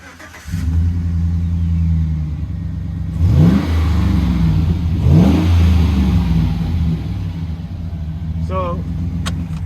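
A 2011 Chevrolet Silverado 1500 LT pickup, lowered, cranks over and catches, then settles into a steady, loud idle. Two sharp revs follow mid-clip, each rising and falling, with the engine rumbling close by throughout.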